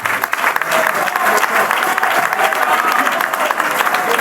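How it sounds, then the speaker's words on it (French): Dense, sustained applause from a large audience at a political gathering launching a constitutional review commission, loud and continuous with no break. "Félix Antoine Tshisekedi Tshilombo, que je vous demande d'applaudir"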